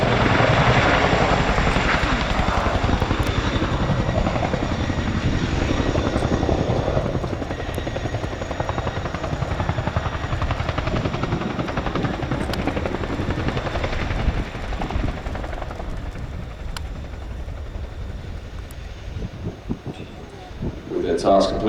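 A Chinook helicopter flying a display at an air show, its heavy rotor thump and engine roar loud and continuous throughout, easing slightly in the middle before swelling again, with a commentator talking over it.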